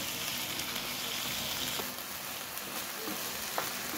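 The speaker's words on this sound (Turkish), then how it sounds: "İyice kavuralım." Minced ingredients seasoned with black pepper, red pepper powder, cumin, salt and chili flakes sizzle steadily in a pan, a close, even frying hiss with occasional faint stirring ticks.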